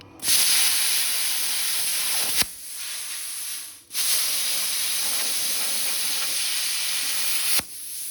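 A hynade 55A plasma cutter slicing through painted metal roars with a loud, steady hiss, broken by two brief pauses where the arc drops out before restarting.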